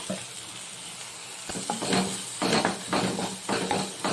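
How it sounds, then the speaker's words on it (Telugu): Softened tomatoes with a spoonful of chili powder are stirred in a frying pan, giving a steady sizzle with a repeated rhythmic scraping of the spoon against the pan. "ఇలా టమాటాలు మెత్తగా అయిన తర్వాత వన్ స్పూన్ కారం వేసేసి తిప్పుకోవాలి"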